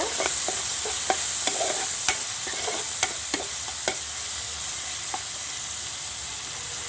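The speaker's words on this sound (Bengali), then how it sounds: "কালো গোলমরিচের গুঁড়া দিয়ে আমি মাংসের সাথে মিশিয়ে নেব" Meat mixed with black pepper powder and chilli flakes is stirred in a hot pan, steady sizzling under a series of sharp spoon taps and scrapes that thin out after the first few seconds, no voices.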